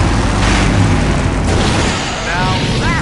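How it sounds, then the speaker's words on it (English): A big explosion in the adventure game Full Throttle, a loud sustained boom and roaring rumble that fills the whole clip, with a faint voice-like warble near the end. "Now that's an explosion, ladies and gentlemen."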